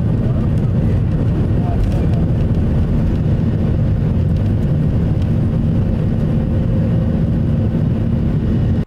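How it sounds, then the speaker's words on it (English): A plane takes off with its wings covered in wet snow and no de-icing, its engines giving a loud, steady low rumble that holds for the whole stretch without letup. "Despite the wings being covered in wet snow and the absence of de-icing procedures, this pilot still took off."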